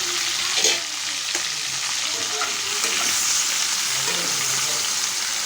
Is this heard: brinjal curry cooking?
yes